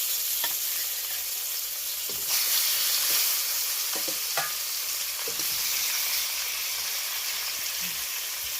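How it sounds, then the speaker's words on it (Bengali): Fish sizzling as it fries in hot oil in a pan, a steady close hiss of bubbling oil with occasional stirring clicks and spatters, no talking. "বাকি মাছগুলো আমি সেমভাবে ভেজে নেব।"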